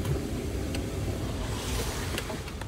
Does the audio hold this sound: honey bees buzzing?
no